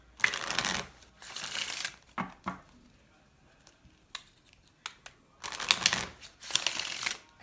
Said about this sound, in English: I'm going to shuffle these a couple times,